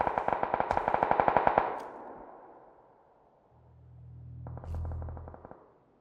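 Automatic gunfire in the battle-royale video game PUBG rattles out as a rapid burst, fades into a soft whoosh and low rumble, then a second quieter burst of rapid shots follows.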